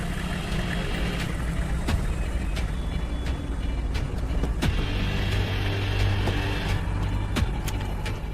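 A car drives along with a steady engine rumble and road noise, a continuous close hum with faint clicks and rattles over it and no voices heard.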